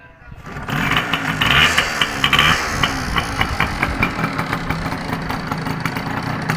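A Honda CG 125 or Yamaha 100 two-stroke motorcycle is kick-started from cold and settles into a steady, loud idle with rhythmic engine pulses, while a voice talks faintly underneath.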